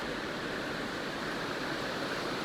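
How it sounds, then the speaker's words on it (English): Rapid creek water rushes in a steady, broadband roar at a Sierra river crossing on the Pacific Crest Trail, close and continuous with no voices. "It's pretty rapid, you can probably hear the water."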